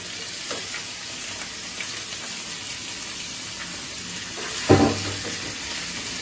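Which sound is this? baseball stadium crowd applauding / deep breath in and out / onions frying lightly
onions frying lightly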